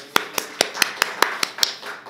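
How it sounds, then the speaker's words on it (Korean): Congregation joining in joyful clapping at a Sunday church service: eight sharp, evenly spaced claps in a steady rhythm, close and moderately loud, with no talking over them. "우리에게 주신 복 우리 기쁨의 박수 올려드리기 원합니다"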